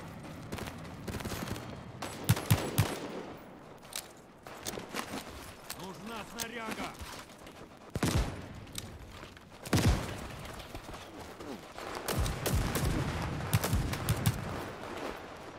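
Marksman rifle fire in the video game World War 3, with scattered sharp gunshot bursts and distant battlefield shots spread across the scene, while a player talks over much of it.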